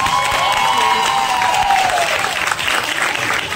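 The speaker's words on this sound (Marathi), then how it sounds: "जोरदार टाळ्या" Loud, dense applause with some cheering fills the space at a dance prize award during a Navmitra sports club event, steady clapping from a large crowd.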